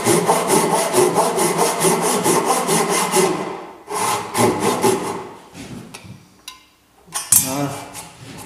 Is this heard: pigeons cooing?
no